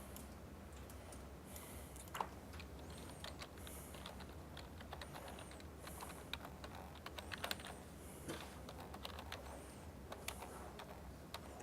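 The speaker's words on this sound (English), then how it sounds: "Let me just type this." Keys on a computer keyboard being typed at a steady, light pace, soft clicks scattered through a low background hum, fairly faint and without any voices.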